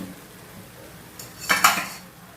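Onion and spice paste being stirred into oil in a pan, heard as a couple of sharp clinks and scrapes of a utensil against metal near the end, after a quiet lead-in.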